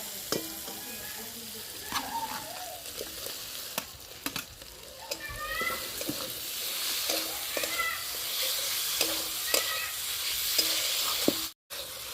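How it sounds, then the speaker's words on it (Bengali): Potato and eggplant frying with spices in an oiled pan, giving a steady close sizzle under occasional scraping stirs and light clinks throughout. "মশলার সাথে আমি বেগুন আর আলুটা ভালো করে কষিয়ে নিয়েছি"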